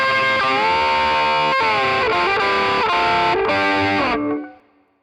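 An electric guitar with distortion and effects plays a section of a song slowly, with sustained notes changing every half second or so before the sound cuts off and decays near the end.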